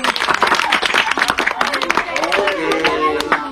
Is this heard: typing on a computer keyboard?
no